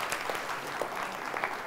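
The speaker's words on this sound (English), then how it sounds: "So a round of applause, please, for the organizers" An audience claps for the organizers at a talk, a brief burst of moderate, scattered applause from a small crowd.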